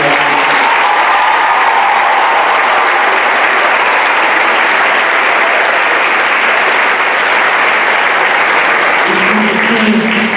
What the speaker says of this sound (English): I want to give one more round of applause for Dr.